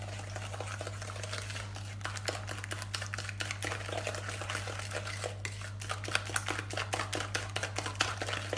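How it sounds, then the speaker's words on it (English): A spoon mixes an egg into Easter cake batter in a bowl, making quick, rhythmic clinks and scrapes against the bowl over a low, constant hum. "Mix your egg in."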